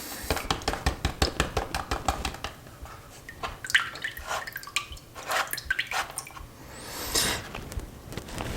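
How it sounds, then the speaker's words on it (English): Black sand being wet-panned for gold in a tub of water, close sloshing, dripping and swirling splashes with rhythmic swishing early on and a louder rushing pour near the end, no speech. "I prefer to wet pan it because it's just quicker, and it only takes a second to set the tub up"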